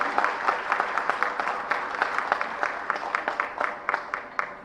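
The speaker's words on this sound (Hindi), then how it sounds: "इनके लिए जोरदार ताली बजाई जाए।" A hall audience at a World Organ Donation Day event at Bansal Hospital in Bhopal claims steadily for the organ donors, a moderate, even round of applause with scattered voices.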